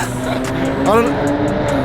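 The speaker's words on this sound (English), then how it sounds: "That's a very loud car." A loud car drives past nearby with a brief rising and falling engine whine, heard over a busy outdoor background where voices murmur.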